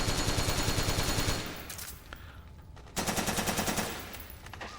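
XM8 rifle fire in the Metal Gear Solid 4 video game: rapid, evenly spaced automatic bursts, loud and close, with a brief pause between two strings of shots.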